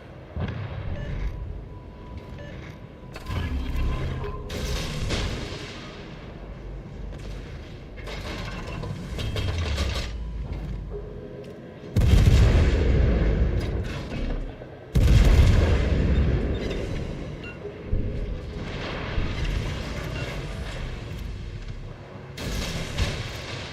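Warship guns boom repeatedly during a World of Warships Legends naval battle, heavy blasts and rumbling explosions over continuous engine and water ambience, with two especially loud salvos midway.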